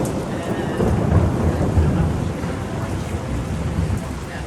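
Heavy rain pours steadily outside a small cafe in Tours, France, with deep thunder rumbling low beneath the downpour, continuous and fairly loud throughout.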